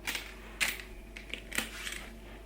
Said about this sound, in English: I'm just going to write it down